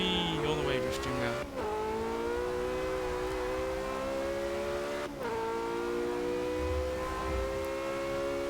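A Porsche drifting in Forza Motorsport 6, its engine holding a high steady rev with whining tire squeal, dipping briefly twice as it shifts, loud and continuous throughout.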